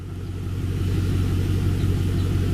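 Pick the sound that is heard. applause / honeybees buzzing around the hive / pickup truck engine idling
pickup truck engine idling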